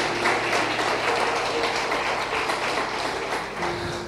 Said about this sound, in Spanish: Dale un fuerte aplauso a Cristo si lo está creyendo.